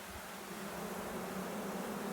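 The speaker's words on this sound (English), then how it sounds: "The bees look healthy." Honeybees in an open, very full hive make a dense, steady buzzing drone that holds evenly throughout, close and unbroken, with no talk.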